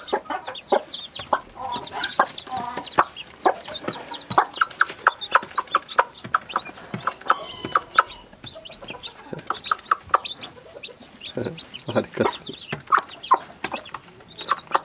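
Many small chicks peep busily in quick, high chirps, overlapping in irregular bursts close by, with no talking.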